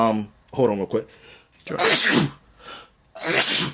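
A single sharp sneeze bursts out early, followed by a few brief spoken exchanges between people talking casually nearby.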